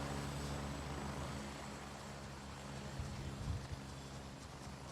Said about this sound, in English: A helicopter flies away.